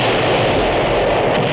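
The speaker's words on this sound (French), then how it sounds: "ça se termine par une énorme explosion de dune buggy" A dune buggy blown up in a 1993 action film erupts as a loud, dense explosive roar that fills the whole moment, a continuous blast with rumbling low end and no voices over it.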